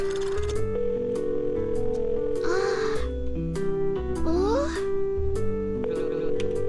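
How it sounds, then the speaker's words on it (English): Unanswered phone call in the Dead Plate video game: a repeating ringing tone pulses steadily over layered game music, with rising chirp-like sweeps in between and no voices. "she's not answering the phone."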